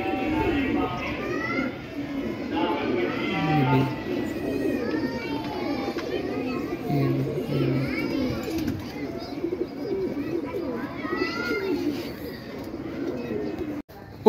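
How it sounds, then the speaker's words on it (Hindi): Pigeons coo softly and repeatedly, with other birds chirping around them and voices talking in the background. "जगह जगह कबूतर रखे हैं"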